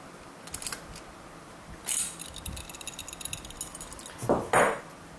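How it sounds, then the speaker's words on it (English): Small metallic clicks and a brief scrape as a wrench loosens the jam nut holding the throttle cable on a Jiffy PRO4 ice auger, faint and close in a quiet room, a few scattered taps ending in two louder clinks. "We just want to loosen that jam nut."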